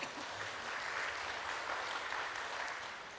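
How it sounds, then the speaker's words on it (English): Audience at a partnership forum claps, producing a continuous even wash of many hands that holds steady for a few seconds, then begins to thin and fade toward the end. "Can you please give a big applause to both of them?"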